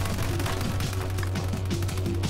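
Gunfire in a video game: a sustained, dense hail of rapid shots with no gaps, steady and loud throughout.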